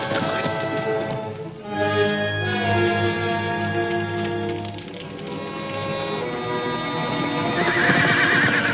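Horses at a camp in a western film, loud repeated neighing and whinnying up close, with hooves clip-clopping and a rain-like patter beneath.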